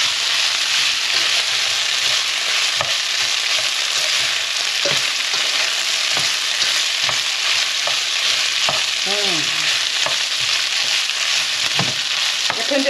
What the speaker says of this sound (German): und etwas Tomatenmark. Und brate das kurz mit an.